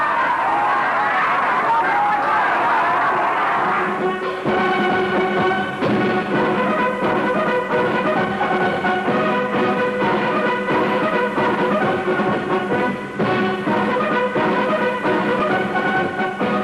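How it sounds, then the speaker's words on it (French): A dense, enthusiastic crowd jostles to see and applaud a visiting head of state in 1966 Cambodia. There is a steady outdoor hubbub of many voices, with a brass band playing clearly over the murmur for most of the stretch. "foule est toujours aussi dense, aussi enthousiaste, et se bouscule pour voir et applaudir l'hôte de la nation"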